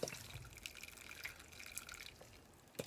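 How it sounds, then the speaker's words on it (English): Water poured over fresh soil in pots where pawpaw seeds were just planted, giving a faint, close trickle with scattered soft drips and splashes. "I'm going to give everything a good water just to make sure that that's, you know, soaked up"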